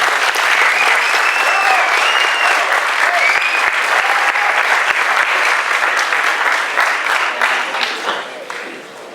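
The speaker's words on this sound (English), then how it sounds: "round of applause for all these great companies" Loud, sustained audience applause at a startup demo night in Miami in 2015. A thick wash of clapping holds steady for several seconds, then tapers off at the end.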